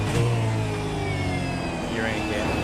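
A V8 race car engine in the iRacing sim game revs high and shifts through gears at Winton, the pitch climbing and dropping with each change, loud and close with faint talk beneath.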